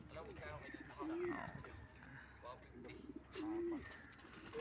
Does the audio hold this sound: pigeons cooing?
yes